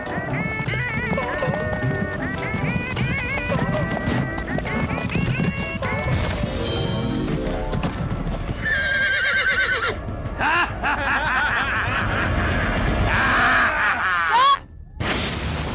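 Horses clip-clopping and neighing on a road in a Hindi devotional drama, loud hoofbeats with whinnies over dramatic music and raised voices.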